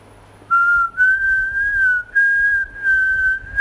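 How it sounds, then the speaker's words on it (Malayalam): A person whistles a steady, clear tune in long sustained phrases with short breaks, loud and close, during a Malayalam stage reading from Vaikom Muhammad Basheer's novel Mathilukal. "ആരാ അവിടെ ചൂളമടിക്കുന്നത്"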